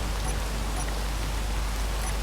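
Steady rain hiss in the game Space Engineers, a constant even wash of falling drops with no talking.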